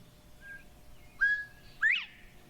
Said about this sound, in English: This is a quail.